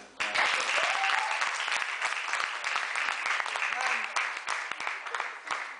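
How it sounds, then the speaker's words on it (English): Audience applause at a business conference in Rabat, a dense, steady patter of many hands clapping at moderate volume for several seconds, with a few faint voices underneath. "give a round of applause to Adnan"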